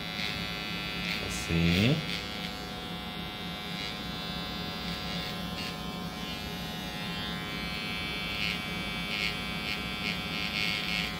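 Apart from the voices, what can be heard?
electric hair clippers cutting a straight line in very curly hair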